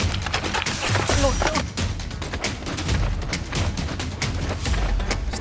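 Rapid toy-gun fire in the mobile game Nerf War, steady clattering shots and pops running continuously at close range, with a brief voice near the start.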